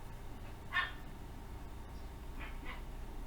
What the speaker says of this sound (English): there's a dog barking in the background again